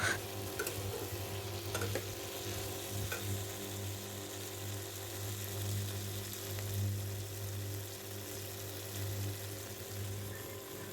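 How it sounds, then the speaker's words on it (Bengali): Paneer and vegetables fry in a pan with a steady low sizzle and occasional stirring scrapes over a constant background hum. "তো দেখো এই যে এটা প্রায় আমার ভাজা হয়ে এসছে"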